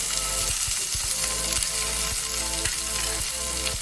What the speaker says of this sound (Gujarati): લસણ અને ડુંગળી એકદમ સરસ સતરાઈ ગયા છે આ રીતે થોડોક બ્રાઉન થવા દેવાનું